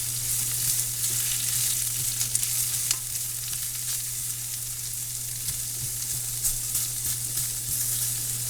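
Onions sautéing in a pan for a beef curry, a continuous close sizzle broken by light scrapes and taps of stirring, with a steady low hum in the background.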